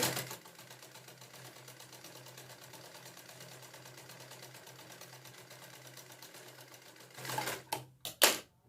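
Close and steady, a sewing machine hums and rattles as it stitches the shoulder seams of a kurti, running continuously before a few louder knocks and clatters near the end.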